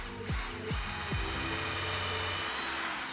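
Power drill boring a pilot hole in lathe-turned wood, with several short bursts of spin-up whine that settle into a steady, fairly faint high drilling drone.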